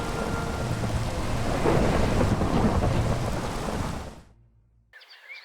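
In a One Piece pirate survival video game, a thunderstorm pours heavy rain with deep rolling thunder, a dense and loud wash of sound that swells midway, then cuts out suddenly into near silence.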